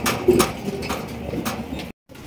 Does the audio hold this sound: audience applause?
no